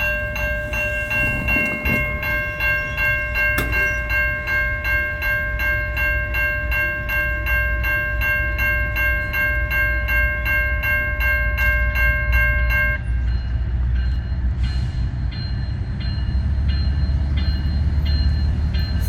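Canadian National freight train in Pekin, Illinois, with two diesel locomotives throttling up: a loud, steady engine rumble carries a sustained tonal whine that cuts off about two-thirds of the way through, leaving a deep drone.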